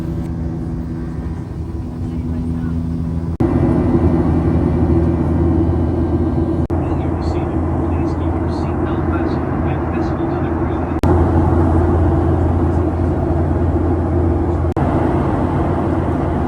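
Steady broadband roar inside an American Airlines airliner cabin climbing past 10,000 feet over the North Atlantic, a constant loud whoosh and hum that shifts level in a few abrupt steps.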